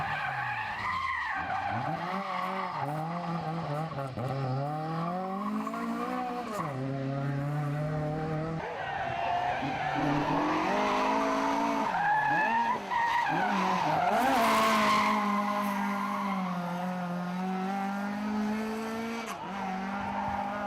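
Rally cars slide sideways at a 2012 spring rally event, engines revving and wailing with rising and falling pitch as tyres skid and squeal on loose surface, loud and continuous without any speech.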